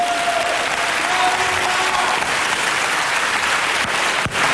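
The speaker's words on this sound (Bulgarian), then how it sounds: "Аплодисменти!" Steady applause from an audience at a samba performance, loud and dense clapping filling the whole stretch with no voices over it.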